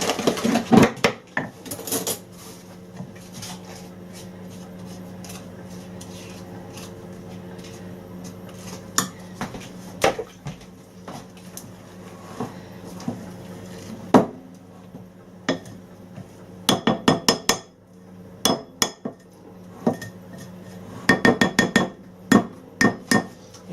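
Pineapple upside-down cake batter being beaten in a bowl, with irregular clinks and knocks of utensil against the bowl, busier in quick bursts toward the end, over a steady low background hum.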